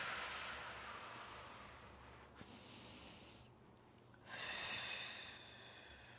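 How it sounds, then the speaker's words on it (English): Slow, deep breaths during a splits stretch, airy inhales and exhales close to the ear, rising and falling quietly over a soft background hiss. "Deep breaths."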